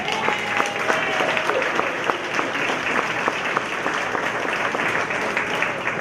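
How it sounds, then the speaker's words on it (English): An audience at a town master plan committee meeting gives steady, sustained applause for the standing committee members, a crowd of hands clapping evenly for several seconds with a faint voice underneath. "Please stand up, committee members, so you may be applauded."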